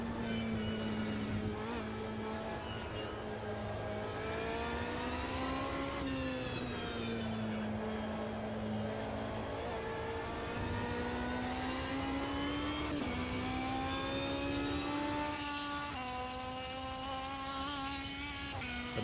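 A race car engine in Automobilista 2 revs continuously, its pitch climbing and dropping with each gear change, heard loud and close from inside the car with no talking.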